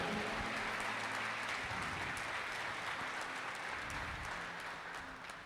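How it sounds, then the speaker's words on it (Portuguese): A church congregation claps together in a sustained burst of praise applause, a broad even wash of hand claps that fades slightly toward the end, with no speech. "Dê uma salva de palmas a Ele, aleluia."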